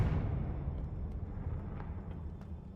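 A Confringo spell explosion in Hogwarts Legacy: a heavy, booming blast that hits at once and then rumbles and fades over a couple of seconds, with faint crackling debris in the tail.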